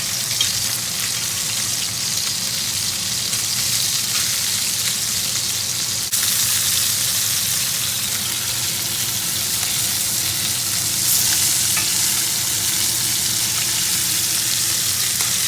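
Lamb chops fry in hot oil with a steady, loud, broadband sizzle that holds throughout, its crackle briefly surging around the middle and again later, with no talking.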